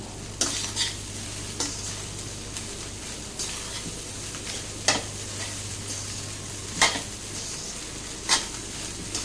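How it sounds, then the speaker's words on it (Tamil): Rice frying in oil for hotel-style fried rice, a soft steady sizzle broken by sharp spatula scrapes against the pan every second or two, close and without talk. "இந்த ரைஸ் இந்த ஆயிலில் கொஞ்சம் நேரம் ஃப்ரை ஆகணும். அதுக்காக நம்ம வந்து கலந்து கொடுத்துட்டே இருப்போம்."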